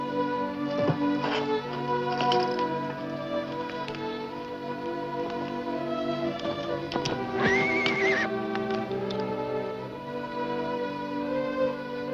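Horses whinnying loudly and repeatedly, with steady clip-clop of hooves throughout, close by in an outdoor western ranch setting with no talk.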